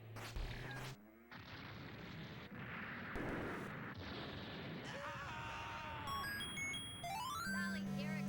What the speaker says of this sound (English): explosion successful